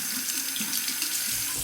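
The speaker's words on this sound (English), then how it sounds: "Let's take this little Proraso brush under the hot water." Hot water runs steadily from a tap over a small Proraso shaving brush at a sink, a close, even splashing hiss with no talking.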